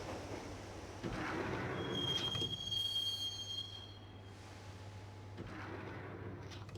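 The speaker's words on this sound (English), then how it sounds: "the train doors had already shut behind me, and I was in for the ride" A video game train rumbles along the rails with a rising whoosh and a thin, sustained metallic squeal, then settles into a steady interior drone.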